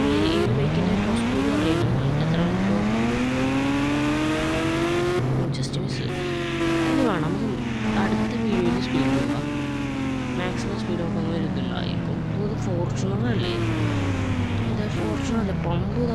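A video game motorbike rated at a top speed of 400 races with a loud, continuous engine note that climbs and falls in sweeping revs, with brief tire and pass-by noise along the way.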